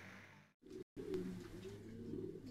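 Racing pigeons cooing at a loft during a race, a steady low murmuring coo from several birds close by, broken by two short gaps of silence near the start.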